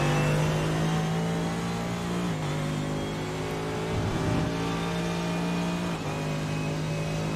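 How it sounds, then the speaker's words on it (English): A flame-throwing McLaren GT race car at Silverstone, heard from on board. Its engine holds a steady, loud droning tone with slight dips in pitch as it shifts, and there is no talk. "let's go on board behind that flame-throwing McLaren"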